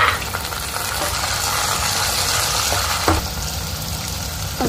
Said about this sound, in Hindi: प्याज थोड़ी फ्राई करेंगे हम